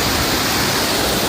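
Water pours from an overflowing dam as a loud, steady, broadband rush, close and unbroken, with no voices over it.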